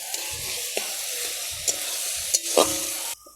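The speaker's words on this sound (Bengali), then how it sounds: "আমাদের পেঁয়াজ টমেটোগুলো প্রায় ভাজা হয়ে গেছে" Onions and tomatoes fry in a pan for a paneer butter masala, a steady sizzle broken by several scraping stirs, close and moderately loud with no talk.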